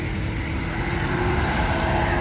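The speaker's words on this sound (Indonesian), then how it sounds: "Itu ada 161 bus Cikarang dengan Pak Digunawan, Om Yatno akan masuk ke garasi" A Rosalia Indah bus pulls into its garage in Palembang, its engine a heavy, steady rumble that stays loud and close throughout, with no voices.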